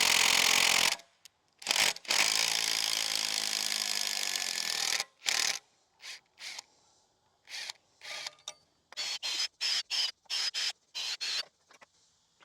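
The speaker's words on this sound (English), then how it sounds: "We're going to pre-drill." Power drill pre-drilling into a hard oak beam: a loud sustained whine and grind at first, then a run of short stop-start drill bursts separated by brief pauses.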